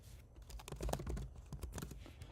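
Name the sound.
typing on a computer keyboard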